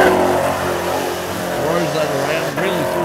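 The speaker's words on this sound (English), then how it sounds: "really threw this car around in this old Commodore" An early-model Holden Commodore engine revs hard and steadily during a pit-lane burnout, a loud continuous mid-pitched roar with rising and falling pitch, and a voice talks over it.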